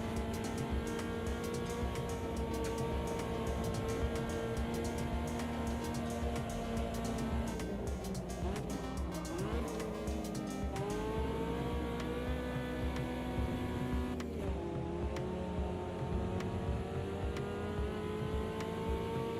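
A race car engine in Automobilista 2 roars and revs near the top of its range, rising and falling in pitch through gear changes, loud and continuous with no talk over it.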